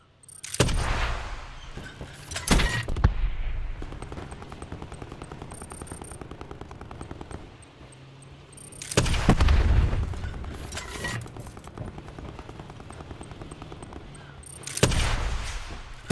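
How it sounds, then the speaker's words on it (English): Gunfire in Call of Duty Black Ops 4, loud heavy bursts and booming shots breaking through a steady sustained roar of automatic fire, with no talking. "Dude, he's still shooting."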